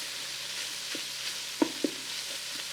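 Bacon frying in a pan for tomato bacon jam, giving a steady close sizzle with a couple of brief pops or taps.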